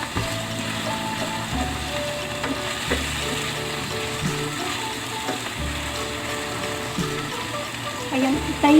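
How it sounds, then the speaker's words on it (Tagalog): Onions sautéing in a pan for a stir-fried beef loaf dish crackle with a close, steady sizzle, broken by rhythmic scraping and stirring clicks of a utensil against the pan; no one talks. "gisa-gisa lang tayo guys"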